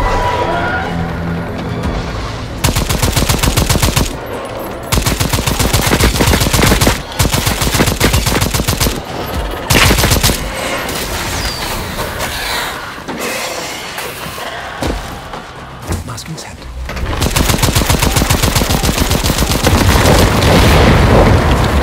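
Loud, sustained gunfire from the Second Extinction video game, with dense bursts of rapid shots broken by brief pauses and heavy booming impacts, dominating the mix throughout.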